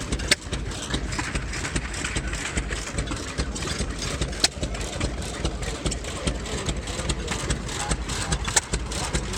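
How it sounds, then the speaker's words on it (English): A 1907 Fairbanks Morse 3 horsepower stationary farm engine runs with a steady low chugging and regular sharp firing thumps, fairly close and continuing throughout. "Here's a Fairbanks Morse, and they were stationary engines and a source of power on the farm"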